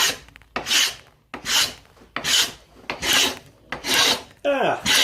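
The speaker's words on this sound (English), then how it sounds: "you can probably just hear that scraping quite nicely there" Repeated rough scraping of a tool against wood turning on a lathe, in steady rasping strokes about every second, loud and close with no talking.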